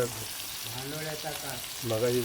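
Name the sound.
tempering sizzling in bhandolya curry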